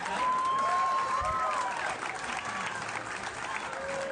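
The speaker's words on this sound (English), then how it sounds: "Look at the clap. That's the Trump clap." Rally crowd at a Trump event bursting into sustained applause, a dense wash of clapping that holds steady throughout, with faint crowd murmur underneath.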